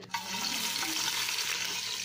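Steady sizzling and crackling of sliced onions frying in hot ghee for mutton biryani, close up, with a brief stir at the start and no voices.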